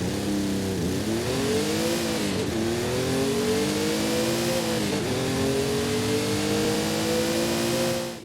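Ford Bronco Raptor with a roughly 3-litre engine in Forza Horizon 5, held at full throttle: a loud, continuous, rising engine roar with brief dips around gear shifts, heard alone without any talk.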